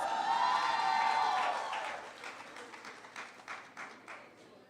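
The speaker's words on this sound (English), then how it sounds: "Give him a round of applause" Audience applause at a Portmore Community College graduation ceremony, a loud dense burst that fades into scattered claps over a few seconds.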